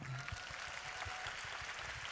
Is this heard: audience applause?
yes